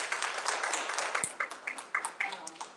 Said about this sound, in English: I'd like to give a big thank you and round of applause for Bob